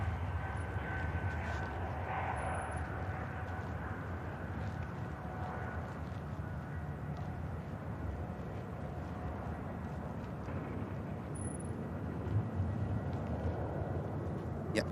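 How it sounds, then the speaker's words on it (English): Singapore Airlines jet taxiing at Manchester Airport, a steady distant low engine rumble and whine holding even throughout, with no talking. "Singapore now continuing the taxi down Tango."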